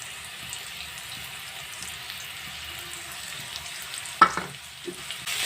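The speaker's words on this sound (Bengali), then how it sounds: "এবার একসঙ্গে হালকা করে ভেজে নেব, বেশি ভাজবো না" Fish coated in mustard paste, turmeric, chilli powder and salt frying lightly in a pan, a faint low sizzle throughout, then a sharp clatter and a couple of soft knocks near the end.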